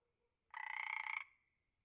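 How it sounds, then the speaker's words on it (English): A coqui frog gives a single loud, close call lasting under a second, a buzzy rasping note that tails off into a faint trailing tone in an otherwise quiet setting. "Coqui frog."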